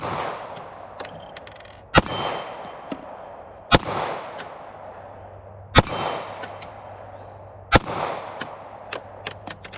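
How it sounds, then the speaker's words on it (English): Ruger P85 pistol shots, the first fired double action: four sharp reports about two seconds apart, each ringing out with a decaying echo, plus faint clinks between. "Let's put a few rounds downrange with the P85."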